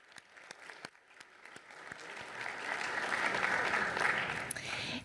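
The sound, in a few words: audience applause at city commission meeting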